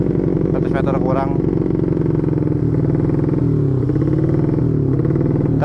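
A Honda Beat ESP 125cc scooter-style motorcycle fitted with an Empush EM1 round exhaust rides past, its engine burbling loudly and steadily with a rising rev near the start and continuous drone throughout.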